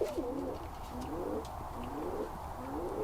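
Birmingham Roller pigeons coo in repeated low, rolling phrases, several overlapping calls close by in a loft with a steady background hiss and no talking.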